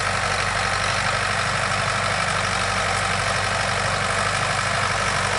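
A DMTZ 544X mini tractor drives a Wirax rotary tiller through virgin soil, its diesel engine chugging in a steady, close, unbroken drone with a faint knocking beat and no talking.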